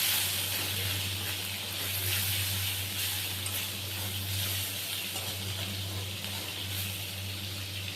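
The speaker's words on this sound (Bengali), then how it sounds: "হলুদ গুঁড়ো, লঙ্কার গুঁড়ো আর স্বাদ মতো নুন দিয়ে মশলাটাকে ভালো করে কষিয়ে নেব।" Spice paste of turmeric, chili powder and salt frying in a pan gives a steady, close hiss with no pauses, heard alone without speech.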